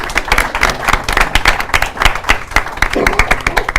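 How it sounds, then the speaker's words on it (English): Audience applause at a storytelling talk event, a dense, steady patter of many hands clapping that continues for several seconds at fairly close range, with a few voices mixed into the crowd noise. "maybe a round of applause to all of you for coming today"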